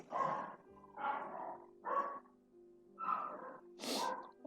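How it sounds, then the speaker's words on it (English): Dogs barking from upstairs in a house, five loud bursts of barking spaced about a second apart, fairly close, with no talk. "Apologies if you can hear the dogs barking upstairs."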